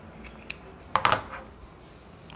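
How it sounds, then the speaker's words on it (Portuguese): Scissors snip through a fabric strip while making clothes for a handmade rag doll: a few close, crisp cuts, one early and a quick cluster soon after, with no talking. "deixa eu cortar esse pedaço aqui"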